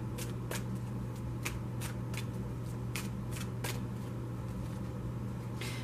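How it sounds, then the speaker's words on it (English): Tarot advice cards being shuffled by hand, a series of crisp riffling snaps repeating every half second or so over a low steady hum, close and quiet. "I'm going to get you one of these advice cards"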